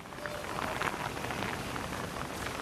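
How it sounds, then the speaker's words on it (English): Intense rain pours during a severe thunderstorm in New York City, a dense continuous hiss of drops with faint scattered patters, steady and fairly loud with no voices. "the rain is just intense at this point"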